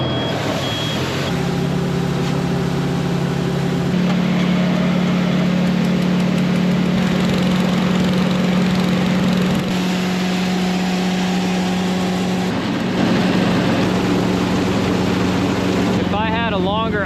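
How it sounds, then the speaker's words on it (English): A grain grinder and auger run through whole barley on a farm with a loud, steady mechanical drone and a humming tonal whine that holds throughout, changing pitch slightly partway through. "I just run it through my grinder and up the auger into the other bin"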